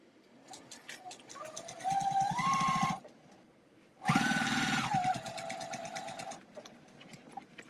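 A sewing machine stitches around a quilted postcard in two sustained runs of fast, close mechanical whirring, its motor pitch rising as each run speeds up, with a quiet pause between them.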